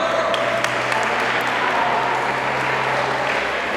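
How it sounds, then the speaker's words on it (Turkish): A crowd applauds at a school sports festival for teachers, a steady, dense wash of clapping that holds evenly throughout at moderate loudness. "Burada Evet Müjdat Damla'ya bir alkış rica ediyorum"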